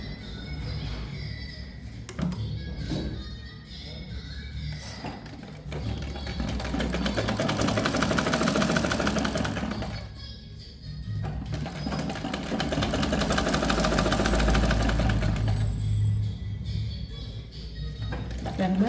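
Sewing machine stitching the outline of a blouse neckline, running in long loud steady bursts with short pauses and a soft mechanical clatter between runs, heard close and alone.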